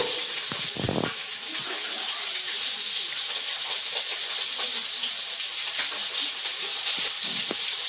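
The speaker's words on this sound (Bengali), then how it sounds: "ওদিকে মাছ ভাজা হচ্ছে" Fish frying in a pan gives a steady bright sizzle throughout, with occasional clinks and small movements from a nearby kitchen.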